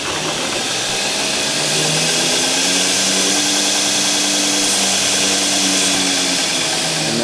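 A belt grinder works bog iron steel at about 120 grit, giving a loud, steady, close-up grinding roar with a continuous motor whine that holds throughout and has no voices over it.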